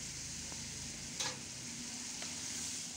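Onion added to a hot pan after cardamom and cinnamon, frying in a steady broadband sizzle with a few scraping stirs of the spoon, close and alone with no voices.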